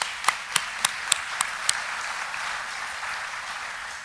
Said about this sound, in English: Let's give the Ambassador another round of applause